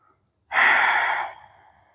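One deep, breathy exhale during a slow-flow yoga stretch, starting suddenly after a short silence, loud and close, then tapering off softly over about a second.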